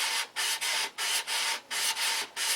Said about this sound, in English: and you sand around the fuselage